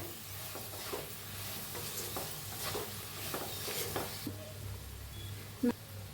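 Masala potatoes with crushed peanut powder being stirred in a pan, giving soft repeated scraping strokes over a low steady sizzle, fairly quiet, with no talk.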